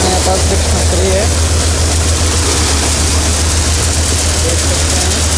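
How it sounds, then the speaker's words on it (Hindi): A tractor engine drones steadily while driving a paddy thresher during rice threshing, a loud continuous low rumble with machinery clatter throughout and no pauses. "इधर एक ट्रैक्टर लगा है और इधर एक ट्रैक्टर लगा है"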